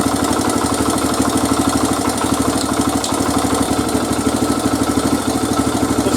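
A 2002 Honda XR100R dirt bike engine idles close by, a loud, even, rapid putter with a steady pulsing rhythm throughout and no voices.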